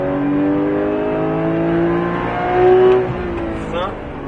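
A Porsche 991 GT3 engine revs and climbs in pitch as it accelerates on the Circuit de Bresse track, loud and close, with a rising whine toward the end.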